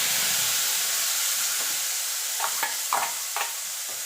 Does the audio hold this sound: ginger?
yes